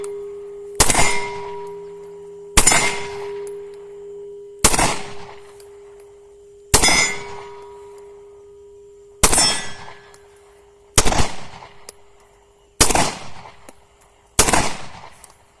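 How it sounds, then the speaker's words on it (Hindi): A Pakistani-made pistol test-fired at a range, eight sharp, loud shots spaced about two seconds apart, each with a ringing metallic tail, with no talk over them. "तो ये पाकिस्तानी पिस्टल था जो हमने फायर किया"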